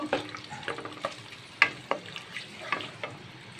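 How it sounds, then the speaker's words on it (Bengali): Sliced onions fry in cooking oil in a pan with cinnamon and bay leaf, giving a soft, steady sizzle broken by scattered clicks and scrapes of stirring, close and fairly quiet. "একটা প্যান বসেছি প্যানে আমি কিছু পরিমাণে রান্নার তেল দিয়ে দেবো"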